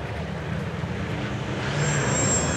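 A UAZ Bobik and a Shark buggy at an off-road drag race, heard as a steady, distant engine drone with a faint rise in intensity toward the end.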